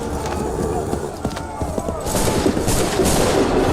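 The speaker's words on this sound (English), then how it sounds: "Fire now!" Musket volley fire in the video game Assassin's Creed III, a ragged crackle of shots with hoofbeats and battlefield noise, the barrage thickening and growing louder toward the end amid shouting.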